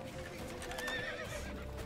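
A horse in the video game The Witcher 3: Wild Hunt whinnies once, a high wavering neigh riding over a soft background of hoof clatter.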